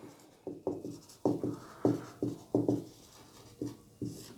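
Pen or pencil writing on paper in short scratchy strokes, about a dozen quick bursts in an irregular rhythm, close and fairly quiet, with no talking.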